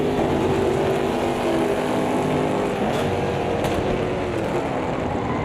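A race car engine in a sim racing video game roars steadily and loudly at high revs, a continuous droning whine with slight pitch shifts and no talking.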